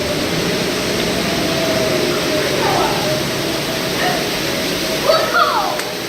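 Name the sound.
waterfall seen from behind at Knott's Berry Farm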